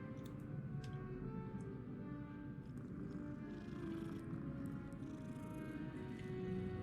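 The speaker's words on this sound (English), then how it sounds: "Ooh, oh, kitty!" A cat purrs steadily in the video game Hogwarts Legacy, a soft continuous rumble held at an even level with a few faint clicks above it and no talking.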